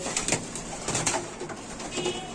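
Pigeons cooing inside a breeding loft, several birds giving soft repeated coos and murmurs that overlap at close range, with no voices.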